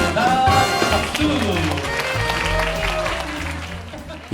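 Audience applause at a children's recital after the performers bow, dense clapping in a hall with music and voices mixed in beneath it for a few seconds.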